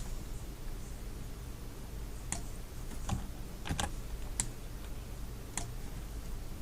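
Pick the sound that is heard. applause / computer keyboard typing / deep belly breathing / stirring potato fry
computer keyboard typing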